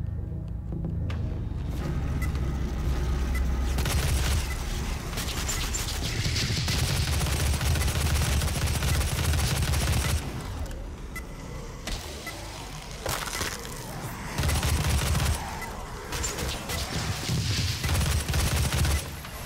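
Micro missile weapon firing repeatedly in DOOM, a dense run of rapid explosive blasts with loud bursts and brief lulls, no talking over it.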